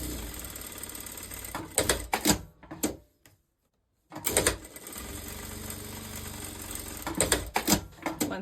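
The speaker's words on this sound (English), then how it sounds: "grab your 2 sleeves and sew down the side seams of your sleeves" A sewing machine runs down the side seams of dress sleeves in loud, close bursts of fast stitching, stopping briefly for about a second in the middle before resuming in a steady run.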